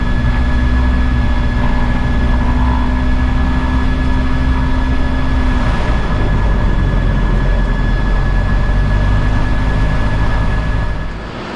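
Diesel engine of a Cessna 172 Redhawk with a constant-speed three-bladed propeller, running as a loud, steady droning hum with a constant tone, heard from inside the aircraft and settling slightly near the end.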